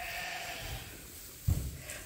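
A freshly shorn show sheep bleats once, close and clear, a short wavering call rising over quiet farm background noise.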